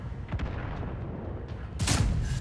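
Tank cannon shots in a World of Tanks-style video game from a Foch 155, a sharp firing blast near the start and a louder, bright report near the end over steady game ambience.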